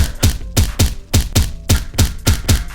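A knife chops through chicken sliders in a baking pan in eight sharp, evenly spaced thunks, close and loud with nothing else over them.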